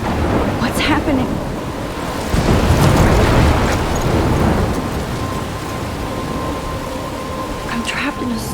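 Rumbling thunder rolls through a steady downpour of rain in the video game Life is Strange. The rain is loud and continuous, and a heavier rumble swells in the middle of the storm.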